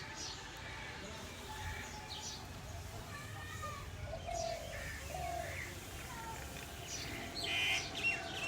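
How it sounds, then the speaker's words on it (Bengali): Several pigeons coo softly at a distance in an outdoor setting, with faint bird chirps and low background noise throughout and a brief louder stir near the end. "এই হচ্ছে কবুতর"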